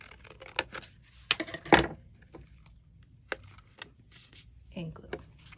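A few crisp snips and rustles of scissors cutting paper for a paper rose, close by, in short irregular bursts with pauses between them.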